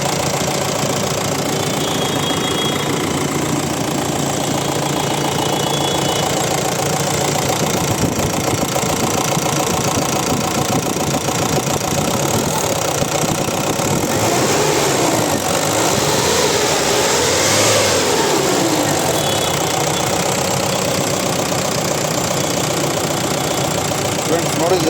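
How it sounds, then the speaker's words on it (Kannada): A 2014 Mahindra Bolero diesel engine runs at idle, giving a loud, steady, continuous rumble with a faint knocking texture that carries unchanged through the whole stretch. "ಇಂಜಿನ್ ಸ್ಟಾರ್ಟ್ ಎಲ್ಲ ರನ್ನಿಂಗ್ ಇಲ್ಲಿದೆ. ತುಂಬ ಕ್ಲೀನಾಗಿ ಮೇಂಟೈನ್ ಮಾಡಿದ್ದಾರೆ. Engine ಸ್ಮೂತಾಗಿದೆ, diesel engine."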